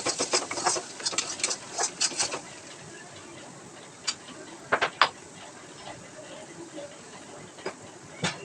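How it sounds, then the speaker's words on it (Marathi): Onion masala paste for a traditional patodi rassa being sautéed in oil, a spatula clicking and scraping in quick irregular bursts over a soft sizzle, busier at first, then sparse taps. "चांगलं परतून घेऊयात तेला तेल सुटेपर्यंत परतून घ्यायचं आहे"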